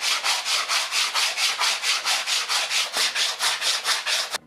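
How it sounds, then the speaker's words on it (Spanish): Rhythmic back-and-forth scraping of 80-grit sandpaper on rustic wood, about a dozen even strokes in quick succession, close and clear, ending abruptly. "Yo le voy a dar una pasada con lija 80."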